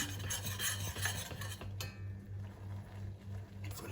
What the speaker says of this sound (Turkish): Unumuzu kavurdu tereyağı ile